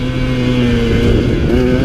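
A 2017 KTM 150 XC-W two-stroke dirt bike revs hard and steady right up close, its high buzzing engine note dipping briefly before climbing again.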